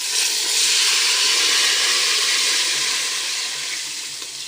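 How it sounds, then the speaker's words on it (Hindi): Water hits hot browned onions with cumin and nigella seeds in a village cooking pot, setting off a loud, bright sizzling hiss that swells at first and then slowly fades. "ये देखिए हमारे प्याज़ों में ब्राउन कलर आ चुका है। अब हम इसमें पानी डाल देंगे।"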